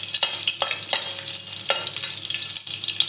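Garlic cloves sizzling in hot oil in a pan for a quick Marathi egg curry, a steady close crackle with a few scraping stirs.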